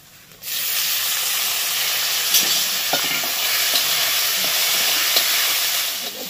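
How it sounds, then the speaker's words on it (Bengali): Taro stolons hit hot oil with frying onions, setting off a loud, steady sizzle and hiss that holds for several seconds, with faint stirring scrapes underneath. "পেঁয়াজটা ভালো করে ভেজে নিচ্ছি। এবার এর মধ্যে দিয়ে দেবো লতিটাকে"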